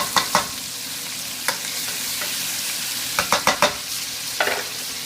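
Steak sears in a hot pan with butter, a steady broadband sizzle running throughout, broken by several sharp utensil clicks and scrapes against the pan, close and alone without speech.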